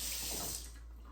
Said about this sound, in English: You definitely always want to be near your sink because you're going to rinse your fingers about 100 times.